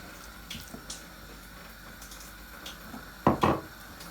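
Water from a kitchen tap splashes in a few short bursts while chapati dough is kneaded, the louder splashes near the end against a quiet background.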